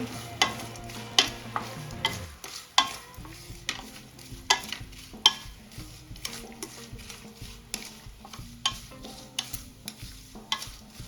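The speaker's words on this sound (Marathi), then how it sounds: "त्यासाठी काजू टाकले त्यानंतर बदाम व्यवस्थित परतून घ्यायचे तुपामध्ये" Cashews and almonds frying in ghee sizzle softly while a spoon stirs them, striking the pan with sharp, irregular clinks throughout, close up.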